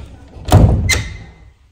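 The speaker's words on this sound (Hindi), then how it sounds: "मेरे लिए दरवाज़ा बंद कर दिया" A door is pushed closed at home, giving a single loud, close thump with a quick second knock as it settles, then quiet.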